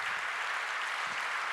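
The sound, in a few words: audience applause for Luc Boltanski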